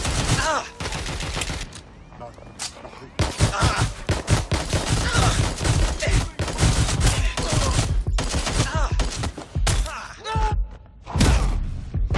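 Gunfire in the video game Watch Dogs Legion, loud rapid bursts of automatic shots and heavy thuds in a sustained firefight, with voices talking and shouting between the volleys.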